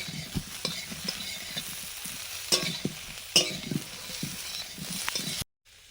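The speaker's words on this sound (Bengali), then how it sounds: "বাটার দিয়ে ফুলকপিটা ভাজছি।" Cauliflower frying in butter in a pan sizzles steadily for about five seconds, with a few sharper crackles and stirring scrapes, then stops abruptly.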